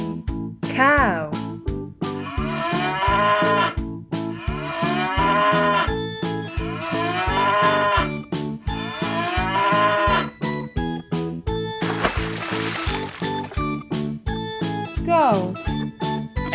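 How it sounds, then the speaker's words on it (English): A cow moos several times with long drawn-out lowing calls. The calls are loud and close and sit over a steady rhythmic music track. "Cow."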